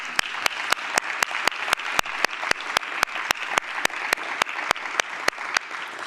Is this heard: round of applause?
yes